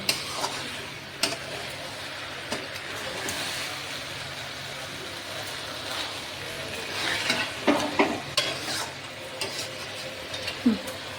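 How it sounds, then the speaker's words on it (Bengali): Duck meat sautéing in a pan, a constant close sizzle under repeated scraping and stirring strokes, busier toward the end. "এবার ভালো করে কষিয়ে নেব"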